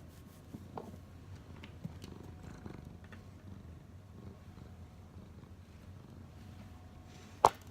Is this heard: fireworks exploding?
no